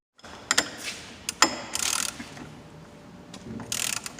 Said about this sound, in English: you can use a 16mm or a 5/8 socket to tighten the bolt.